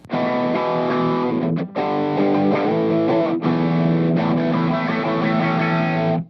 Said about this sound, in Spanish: cuando la señal es recortada arriba y abajo iguales, tienes un sonido característico que es del clipping simétrico